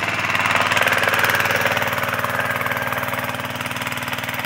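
A Branco engine-driven centrifugal water pump runs steadily close by, a loud rhythmic mid-pitched engine chug with a constant mechanical drone, filling a 3,000-litre reservoir; no talk.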